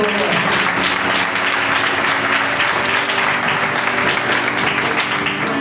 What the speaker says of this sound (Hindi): तालियां बजाएंगे मेरे यीशु के लिए।